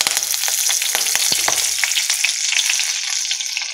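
Curry leaves and mustard seeds sizzle loudly in hot oil for onion sambar, a dense steady frying hiss broken by sharp pops and crackles, close up and with no voices.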